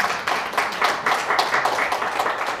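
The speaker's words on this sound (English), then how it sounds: "Thank you for your applause." An audience at a public lecture applauds, producing a steady, dense patter of clapping that holds at an even level for a few seconds without voices.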